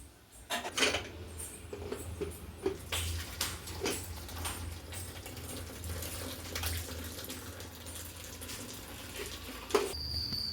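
Water drained from cooked lentils for spinach dal pours and splashes into a sink with faint clinks of metal utensils, a steady running flow lasting several seconds.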